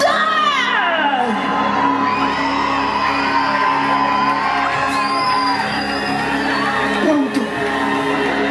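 Concert audience, largely children, shouting and whooping together in a loud, sustained crowd roar with rising yells throughout.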